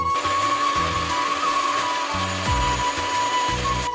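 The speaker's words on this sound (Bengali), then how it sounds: "কাঁচামরিচ আর আদাটা পেস্ট করে নিলাম" Green chilli and ginger being ground into a paste in an electric grinder, loud and steady, with the motor pulsing in short bursts and a constant high whine throughout.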